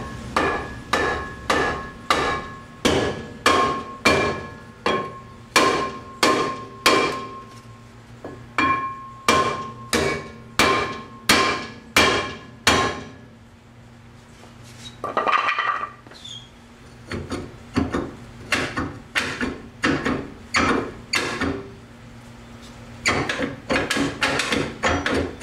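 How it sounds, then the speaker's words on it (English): Repeated hard knocks of a wood block striking a rear brake rotor on a 2003 Acura TL Type S, a rapid series of sharp bangs with short pauses and a brief scraping stretch midway, close and loud. "Just a piece of wood and just bang it around."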